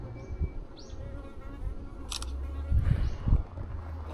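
A bee buzzes near the ear outdoors close to Inuyama Castle, making faint whining passes that rise and fall, with brief rustles and thumps of movement underneath.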